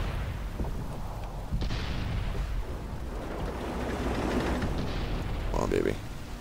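Tank cannon shots in World of Tanks from a KV-220, a few deep booming blasts and rumbling impacts spread across the stretch, mixed under a game soundtrack and a man's speech.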